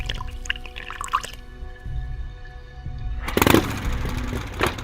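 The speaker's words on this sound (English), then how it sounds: "Fill it with water." Water filling a container in a kitchen in the Dracula 4 video game, a steady running pour that swells louder partway through, over a low background hum with a soft drip early on.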